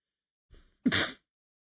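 A single sneeze, close and fairly loud, with a short sharp intake of breath just before the explosive burst.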